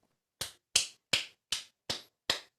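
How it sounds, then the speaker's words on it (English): Six sharp, isolated claps from a single person ring out one by one in a slow, even rhythm against near silence, each crisp and close with a quick decay. "Why are you clapping for that?"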